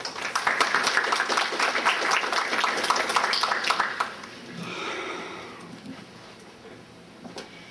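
Dense applause from a crowd at a judicial lecture fills the first four seconds, then fades into quieter room noise with scattered faint sounds.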